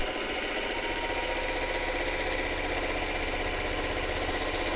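A sewing machine stitches steadily along a fabric selvage, giving a loud, even, fast mechanical whirr with a regular rattling pulse that runs the whole time with no talking.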